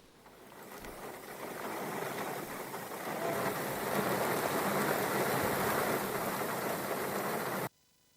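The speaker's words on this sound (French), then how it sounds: "Les habitants de la brousse qui avaient traversé une longue période de sécheresse récurrente se réjouissent de cette pluie." Rain falls steadily in the bush after a long drought, a broad hiss that swells over the first few seconds, holds loud and even, then cuts off abruptly near the end.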